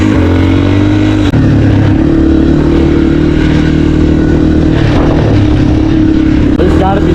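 A dirt bike engine drones loudly and steadily in an open field, its pitch rising and falling slightly with a brief break in the middle, alongside some clatter and occasional talk.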